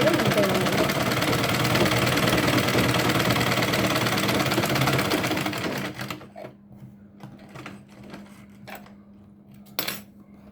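A sewing machine stitches a cloth baby nappy in a loud, fast continuous mechanical clatter for about six seconds, then stops, leaving faint handling noises and a brief rattle.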